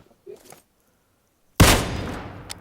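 A burst of rapid gunfire in the battle game PUBG erupts loudly after a near-silent stretch and then trails off with scattered echoing shots, preceded by faint brief murmurs.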